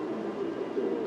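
A racing pigeon from a club loft coos softly and continuously nearby, a low murmuring call with a faint background hum.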